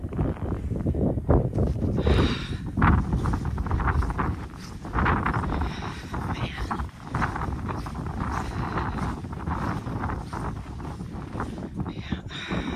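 Strong cold wind of a winter blizzard roars steadily across an outdoor microphone, gusting loud and close throughout with no speech.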